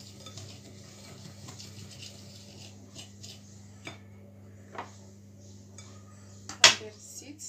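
Semolina and sugar mixed by hand in a bowl for pancake batter: soft, faint scraping and stirring with a few light clicks, then one sharp clink of utensil against the bowl near the end, over a low steady hum.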